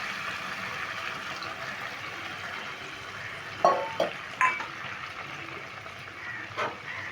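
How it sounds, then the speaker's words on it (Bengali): A spoon stirs an eggplant and bhola fish curry with mustard in a pan, giving a few faint scrapes and clinks in a cluster midway against a quiet background, with one more light knock near the end. "এবার আমি নেড়ে দিচ্ছি এই মন ভোলানো বেগুন ভোলাটা"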